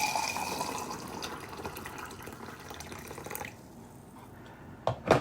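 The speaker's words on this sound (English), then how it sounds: "I add water." Water pours into a cup over a hanging bag of garden herbal tea, a steady trickling fill for about three and a half seconds, followed by quiet and a couple of brief drips or clinks at the end; no talking.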